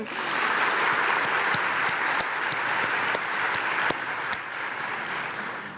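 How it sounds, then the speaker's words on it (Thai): A crowd of young club members claps for themselves at a royal court news event, producing a steady, dense wash of applause with a few sharper individual claps standing out, continuous and fairly close throughout. "อยากให้พวกเราปรบมือให้กับตัวเอง"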